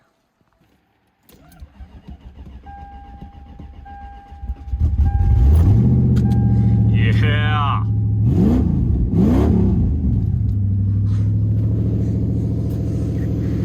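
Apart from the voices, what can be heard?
car engine starting and revving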